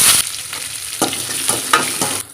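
Mustard seeds, cumin, onion, green chili and curry leaves sizzle steadily in hot oil in a pan. A spoon stirs them in regular scraping strokes, up close, with no talking.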